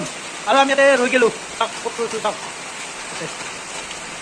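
Heavy rain pours steadily at night outside a cultural gathering at a Tamulpur satra in Assam, a constant hiss of downpour under someone speaking briefly.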